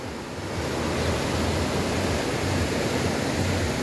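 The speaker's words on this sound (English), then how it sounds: "I can hear the water. Wow, look how strong it's coming down." Duden waterfall in Antalya, Turkey, water pouring down strongly, giving a loud, steady roar with a low rumble that stays constant throughout, with no voices.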